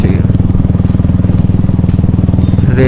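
Motorcycle engine idling in gear with the rear tyre spinning, a steady close rapid chugging throb that stays even throughout, loud and alone without talk.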